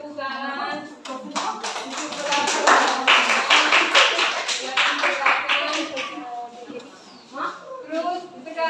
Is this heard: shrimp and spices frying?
no